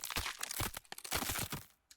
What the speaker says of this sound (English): Ooh, lovely crunching.